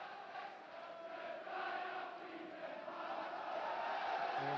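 Football crowd at a Hearts v Rangers match applauds as an injured Rangers player gets back on his feet, a broad steady wash of distant clapping and crowd noise that swells slightly toward the end.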